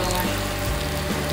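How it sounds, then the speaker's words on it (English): Malpua sizzling in ghee, a steady close crackle and hiss of frying batter with no talking over it. "This is fried in ghee only, so don't try to fry in oil or"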